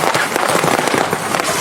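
Balloons burst in a fast, dense string of sharp pops used to imitate firecrackers at a party, crackling loudly with no pauses.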